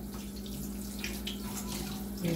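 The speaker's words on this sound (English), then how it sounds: "Just wash my hands." A faucet runs steadily into a sink during handwashing, a quiet, continuous splashing hiss with a low hum beneath and faint clatter near the end.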